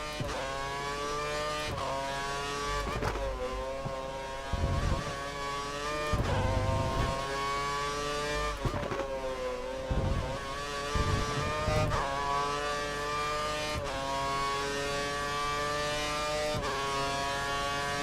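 Racing engine of a Mercedes Formula 1 car in F1 2013 on the Italy round, holding a steady high whine that rises and dips through repeated gear shifts, loud and continuous with no talk.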